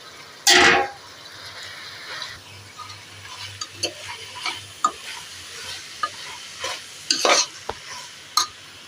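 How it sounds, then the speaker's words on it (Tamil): A ladle stirs chicken biryani masala in a pan, with an initial loud scrape followed by soft intermittent clinks and scraping over a low sizzle. "கரண்டி எடுத்து கிண்டு"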